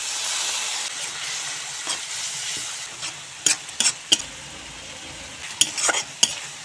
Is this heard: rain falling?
no